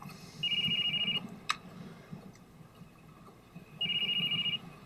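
Phone ringing in a Sopranos episode, two separate electronic ring bursts about three seconds apart, heard at moderate volume over room background.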